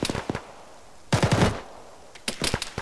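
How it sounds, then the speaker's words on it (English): Machine gun fire in the ArmA military shooter, coming as several short, sharp bursts separated by brief pauses, loud and close, with no voices. "get that gun shooting somewhere"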